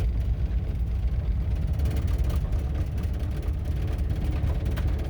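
A 1987 Dodge Ramcharger truck drives along on its first run after repair work, its engine a steady low rumble heard from inside the cab, continuous and moderately loud with no talk over it.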